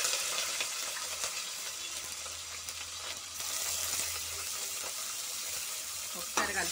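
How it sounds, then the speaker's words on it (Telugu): Mustard seeds, cumin and green chillies fry in hot oil in a pan for a broad-bean stir-fry, giving a steady close, loud sizzle with occasional crackles and a brief stirring clatter near the end. "ఆవాలు జీలకర్ర వేసాను చూడండి ఆవాలు జీలకర్ర వేగిపోయాయి"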